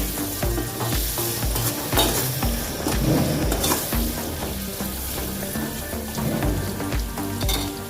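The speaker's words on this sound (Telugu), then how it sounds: "ఇవన్నిటిని ఫ్రై చేసుకోవాలి కాసేపు." Shahi jeera, cloves, kabuli chickpeas and green chillies fry in butter with a lively sizzle. Repeated stirring and the scrape and clatter of a utensil against the pan break into it at irregular intervals, with no voices.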